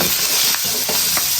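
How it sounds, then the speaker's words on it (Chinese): Scallion, ginger and garlic sizzle in hot oil in a wok, a steady close frying hiss with a few soft stirring clicks. "油热，葱姜蒜爆香。"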